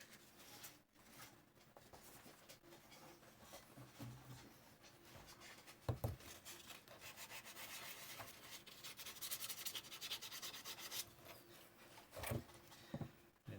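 A 3D printed part coated in glazing putty is hand sanded with 240 grit emery cloth, producing quiet, uneven rubbing strokes with a few sharper scuffs, close and faint, with no talking.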